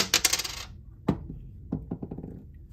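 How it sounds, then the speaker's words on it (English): A small coin cell battery from a Lincoln MKT key fob drops and clatters onto a hard surface, one sharp hit followed by several quick, fading bounces, close and clear with no talking. "you can use your screwdriver to help get the old battery out"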